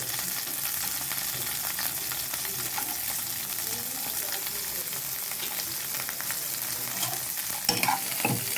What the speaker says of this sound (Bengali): এবার এটাকে একটু ভেজে নেব।